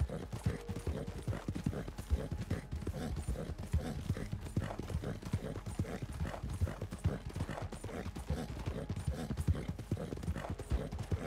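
Horse hooves clip-clopping at a steady riding gait in the video game Red Dead Redemption 2, a continuous rhythmic patter close by, with an occasional faint whinny and game background underneath.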